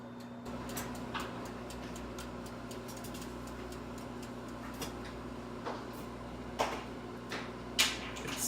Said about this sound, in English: You can see the bacon cooking in the microwave, going round and around and around.